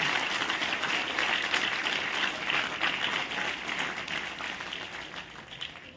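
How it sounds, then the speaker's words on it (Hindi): Steady, dense applause from a large crowd, sustained clapping that fades slightly toward the end, with no voices standing out. "जोरदार तालियां"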